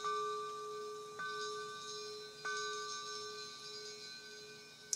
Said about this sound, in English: It's the sound of a scuba bell.